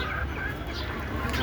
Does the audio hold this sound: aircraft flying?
no